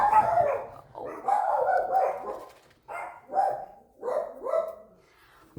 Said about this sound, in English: I'm sorry, the dogs are barking.